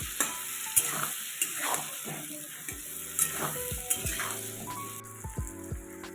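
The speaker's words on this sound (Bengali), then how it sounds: "নেড়ে চেড়ে এরকমভাবে সুন্দর করে একটু ভেজে নেব" Papaya pieces with salt and a little turmeric fry in oil and are stirred in a pan for a papaya-potato curry. A steady close sizzle runs throughout, broken by repeated scraping and knocking strokes from the stirring, with no voices.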